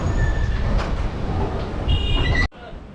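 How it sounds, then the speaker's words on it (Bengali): The Bolpur–Howrah Santiniketan Express pulling out of platform 3 at a station, a loud, close, steady rumble of wheels and carriages with faint squealing tones, cut off abruptly near the end. "ঠিক নির্ধারিত সময় দুপুর 1:10 আমাদের Bolpur Howrah Santiniketan express platform number 3 থেকে ছাড়লো।"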